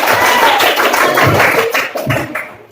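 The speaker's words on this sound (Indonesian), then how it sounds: "Tepuk tangan buat kalian semua." Students in a grade 6 classroom clap together, a dense, fairly loud burst of hand claps that thins out and tapers off over a few seconds, with some scattered voices mixed in.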